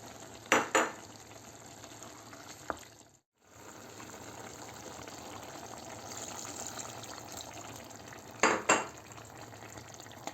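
Water poured into leeks sautéing in a pan: a soft, steady sizzle with brief splashy bursts near the start and again near the end, quiet and close, with no voices.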